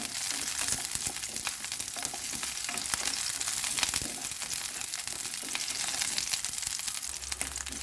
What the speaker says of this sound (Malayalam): ഒരു പത്ത് ചുമന്നുള്ളി ഇതിലേക്ക് ചേർത്ത് ഒന്ന് വാട്ടിയെടുക്കണം